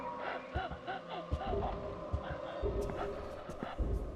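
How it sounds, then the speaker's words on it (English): Faint, wavering cries drift through a tense, dim ambience in the horror game Silent Hills P.T., rising and falling in a few drawn-out wails under low rumbles and scattered clicks. "Now the cries are starting up, but they're starting up later."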